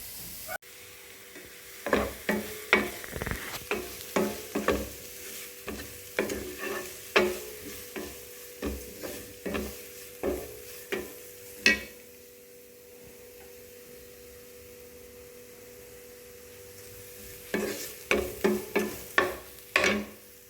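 Grated cucumber mixed with coconut is stirred in a pan over a low flame, with repeated spatula scrapes and knocks over a steady low hum, then a quiet pause before the stirring returns.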